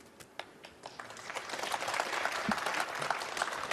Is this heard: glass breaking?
no